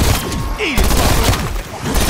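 Rapid bursts of gunfire from a PPSh submachine gun in Call of Duty Cold War Zombies on the Firebase map, loud and close, with several volleys of fast shots and booming impacts across the moment.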